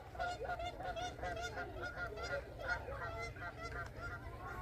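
A flock of geese honking continuously out at a coastal bird hide, overlapping calls at moderate distance over a low steady rumble.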